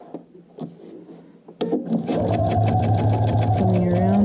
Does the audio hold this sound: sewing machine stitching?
yes